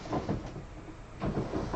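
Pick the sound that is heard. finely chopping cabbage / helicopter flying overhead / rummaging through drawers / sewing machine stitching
rummaging through drawers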